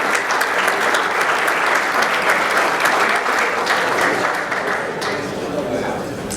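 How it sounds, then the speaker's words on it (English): A luncheon crowd at a senior student-athlete event gives a warm, sustained round of applause for the field hockey seniors, thick, even clapping that fills the room for several seconds and tapers slightly toward the end. "Please join me in a warm round of applause for the senior members of the field hockey team."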